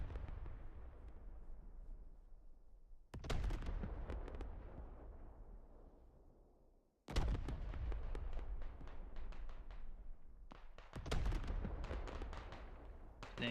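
Heavy gunfire and explosive blasts hit a burning lodge during a Squad battle, with repeated sharp reports and booming bursts in loud clusters, pauses of fading rumble between volleys.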